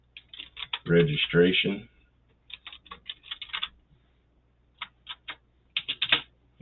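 Computer keyboard typing in short bursts of quick clicks, separated by pauses, with a person talking loudly near the start and quieter stretches of keystrokes afterward.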